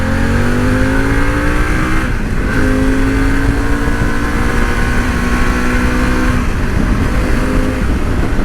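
Motorcycle engine pulling hard up through the revs, loud and close, rising pitch with brief dips at gear changes before climbing again, no voices.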